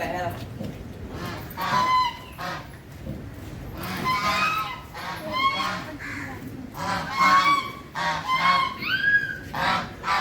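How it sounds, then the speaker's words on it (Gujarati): Ducks in a Gujarat village honk repeatedly at close range, with bursts of loud nasal calls spread irregularly across the clip while people talk underneath. "જો આ બતક છે"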